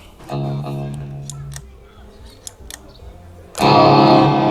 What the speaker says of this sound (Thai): เสียงแตกนะตรงนี้เสียงแตก